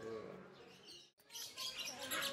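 Birds chirp and call near visitors in a bird enclosure at Lembang Park & Zoo in Bandung, a dense flurry of tweets mixed with people talking nearby.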